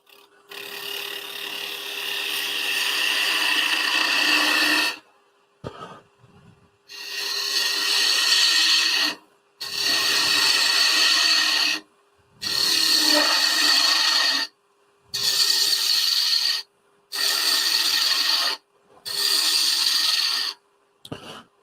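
Wood lathe turning a small wooden scoop, a gouge riding the bevel against the spinning blank: a steady broadband scraping hiss in repeated bursts of a few seconds, separated by short pauses and a constant motor tone underneath.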